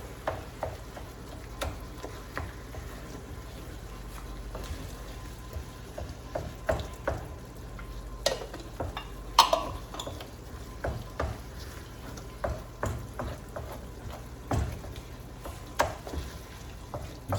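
Spoonfuls of fat-free refried beans stirred into a tortilla casserole, giving soft, irregular scraping and wet clicks at close range over a low steady background hum with no talking.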